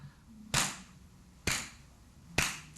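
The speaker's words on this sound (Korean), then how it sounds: "우리 아이들은 이렇게 제가 방금 친 원비트 박수를 못 칩니다" Three sharp, loud hand claps struck one at a time at an even, steady beat, each a crisp isolated smack with quiet in between.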